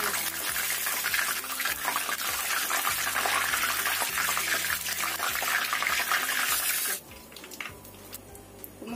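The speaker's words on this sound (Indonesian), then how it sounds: "Kemudian kita goreng yang berikutnya." Tofu fries in hot oil in a pan, giving a loud, continuous crackling sizzle that lasts for several seconds before suddenly dropping to a quieter hiss under a low background hum.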